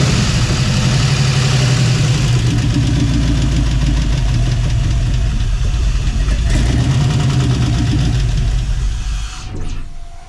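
An engine on a test fire runs loud and close, idling with a rough, knocking rumble for several seconds before it cuts off abruptly near the end.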